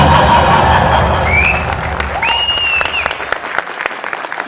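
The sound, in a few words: applause at Bramayugam press meet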